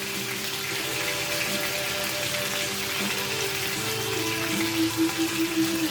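Pot roast searing in a hot pan over medium-high heat, giving a steady broadband sizzle that fills the whole stretch, close and even, with faint tonal hum underneath and no voices.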